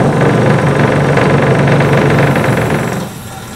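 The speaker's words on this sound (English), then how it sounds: "I'm going to grind this curve in here." A bench grinder grinds the tip of a high-speed steel parting tool, a steady loud grinding roar that runs for about three seconds and then fades as the contact ends.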